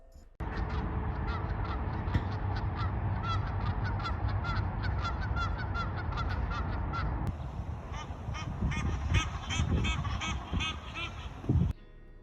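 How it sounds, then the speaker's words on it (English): Geese and ducks honk and call repeatedly on a walk through a park, a busy overlapping chorus that stays steady and fairly close throughout. "a bird's call serves as an alarm or as a means of communicating with other birds from their flock"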